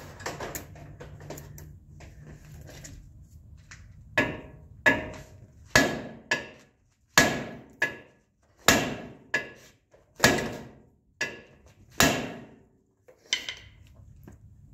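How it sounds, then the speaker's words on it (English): Sharp hammer strikes on metal during a 2005 Ford F150 4x4 front strut replacement, about eight separate loud clanging blows spaced roughly a second apart, ringing briefly after each hit, close by. "Four hits with the hammer."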